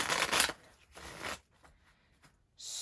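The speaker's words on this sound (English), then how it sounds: "we're going to give this one more fancy shuffle." Phase 10 playing cards are riffle shuffled at close range, two quick papery bursts of flicking cards followed by soft taps, with one more riffle starting at the end.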